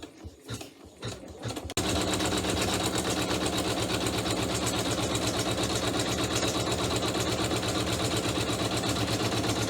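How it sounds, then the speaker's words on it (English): After a brief moment of handling, an embroidery machine stitches a tack-down line below the zipper on a fabric pouch in a loud, steady, fast mechanical chatter that runs without a break. "So I'll stitch that tack down line."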